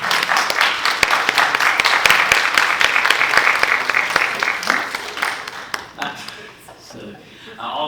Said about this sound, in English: want to give them a round of applause for their work